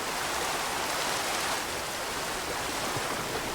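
Steady rain falls in the video game From the Fog, a dense, even hiss of droplets spread wide and close, holding constant from start to finish with no talk over it.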